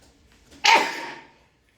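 A single sharp sneeze bursts out close to the microphone, a brief explosive hiss that fades within about a second, in an otherwise quiet room.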